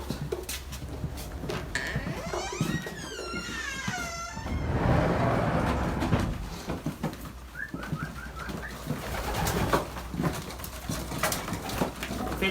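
Racing pigeons cooing in a breeding loft, repeated soft throaty coos close by, with a louder burst of calls midway and a faint background hum.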